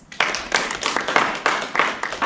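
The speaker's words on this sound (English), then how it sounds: "Clap if you know what a doll is." An audience claps together in a bright, close burst of quick, irregular hand claps that keeps up steadily for a couple of seconds, with no talking over it.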